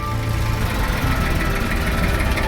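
Tractor engine running steadily with a loud, close, knocking diesel chug and vibration, no voices over it.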